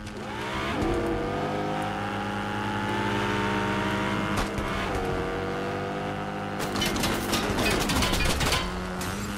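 Fortnite motorcycles revving and riding, a steady engine drone with rising and falling pitch and bursts of revving near the end, loud and close, with no talk over it.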